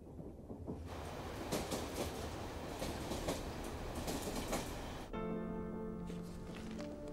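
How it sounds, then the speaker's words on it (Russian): A tram rolls along its rails with a loud, steady rumble and clatter of wheels, close by, then shifts to a lower hum with whining tonal squeals as it slows. "Твой трамвай."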